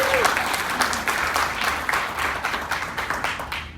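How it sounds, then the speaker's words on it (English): Audience applause at an evening talk on homelessness in Houston, a dense, steady clapping from a room full of people, loud and sustained throughout, with a faint voice briefly audible under it. "That deserves some applause."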